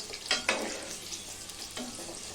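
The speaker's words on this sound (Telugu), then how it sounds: "దోరగా వేయించుకోవాలని నేను సిమ్లో పెట్టి కూడా వేయించుతున్నాను" Short pieces of drumstick (moringa pod) fry gently in a pan over a low flame, giving a soft continuous sizzle with a few brief crackles and stirring scrapes near the start.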